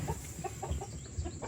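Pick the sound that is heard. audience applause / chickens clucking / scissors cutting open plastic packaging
chickens clucking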